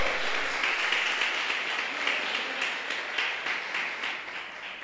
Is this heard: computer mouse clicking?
no